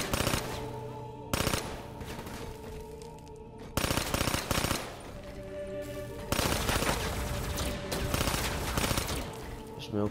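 Rapid automatic gunfire bursts in the video game Black Ops III, loud and dense, with several sustained volleys broken by brief pauses.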